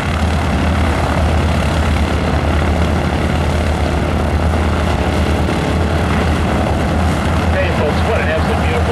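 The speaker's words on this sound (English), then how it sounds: "Rolls that airplane over, upside down, and goes right on through out there in another classic barrel roll." Aerobatic airplane rolling over upside down through a barrel roll at an outdoor air show, a steady loud engine drone running continuously throughout, with crowd and announcer noise beneath.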